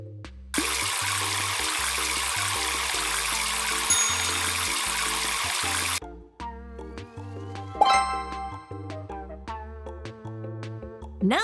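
A shower runs in a steady, dense rush of water for about five seconds and then cuts off, leaving playful music with chime-like tones and a bright ringing accent.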